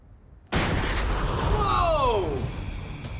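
A controlled detonation of 5 pounds of explosive erupts as one sudden loud blast after a moment of quiet, followed by a long rumbling roar and rushing debris that slowly fades.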